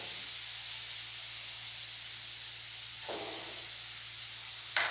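Small onions sizzling in hot oil with ginger and garlic, a steady bright hiss throughout, with a brief louder crackle around the midpoint and another burst at the end.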